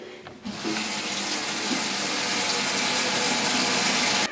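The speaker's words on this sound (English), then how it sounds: "I'm just going to soak it under the tap." Tap water runs steadily into a sink to soak freshly dyed yarn, a continuous close rushing splash that starts abruptly after a brief quiet moment and holds level throughout.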